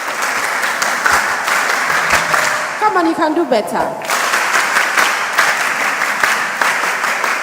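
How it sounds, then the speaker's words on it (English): Audience applause for a guest joining a mentorship session fills the room, dense, loud continuous clapping from a crowd, with a voice speaking briefly over it midway. "So, with a big round of applause, shall we introduce Courage as he joins us?"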